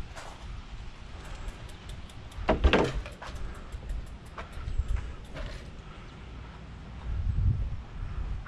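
A metal dumpster door in an industrial park is dragged and knocked open, giving a few scraping, banging thuds with soft rattles, fairly close, over light outdoor background noise.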